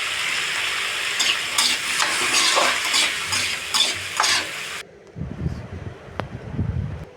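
Tomatoes sautéing in oil in a pan for a mutton kulambu sizzle steadily while a spoon stirs and scrapes in irregular strokes close by. The frying then drops to a quieter hiss with a few clinks.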